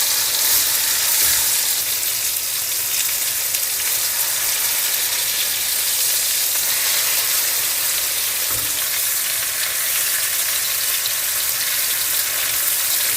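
Chicken cutlets fry in a pan for an Italian Valdostana dish, a steady close sizzle holding at even loudness throughout with no talk.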